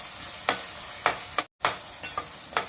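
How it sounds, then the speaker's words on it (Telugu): Fish pieces for a fish curry fry in a pan until browned, giving a steady close sizzle broken by several sharp scraping stirs and one brief dropout. "బ్రౌన్ కలర్ వచ్చేంత వరకు ఇలా వేయించుకోవాలి"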